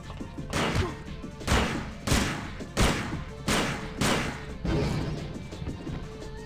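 Shotgun fire in the game System Shock 2 Nightwalker, a series of about six loud, sharp blasts spaced roughly evenly over several seconds, each with a short ringing tail.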